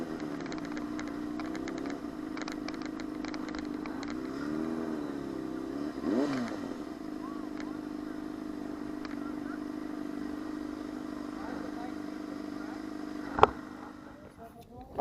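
A Honda CBR 600RR motorcycle rides off-road along the coast, its engine droning steadily with a short rise in revs midway and a sharp clunk near the end, wind noise throughout.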